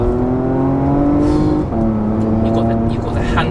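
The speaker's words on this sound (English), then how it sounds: "You can hear the engine ready to go at all times." Porsche Macan GTS engine pulling hard under acceleration, a loud steady drone rising slightly in pitch, a brief dip partway through, with someone talking over it throughout.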